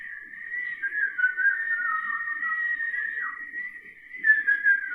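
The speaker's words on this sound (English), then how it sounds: "Just whistling into the mic for several seconds." A person whistles into a podcast microphone for several seconds, a close, clear sustained tone that wavers and slides in pitch, heard alone without speech.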